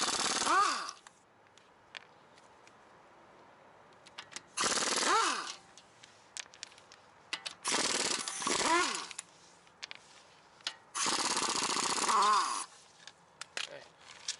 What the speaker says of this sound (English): by pulling the factory wheels off with a 17mm